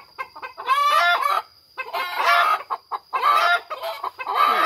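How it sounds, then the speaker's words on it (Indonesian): A large adult rooster clucks in repeated short bursts, close and fairly loud, with brief pauses between the throaty calls. "Nah itu ayam jagonya udah gede banget teman-teman."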